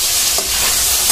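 Ginger-garlic spice paste fries in a pan with a steady, close hiss that holds evenly through the short stretch, with no voices.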